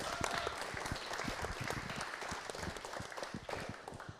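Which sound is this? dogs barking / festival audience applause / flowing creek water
festival audience applause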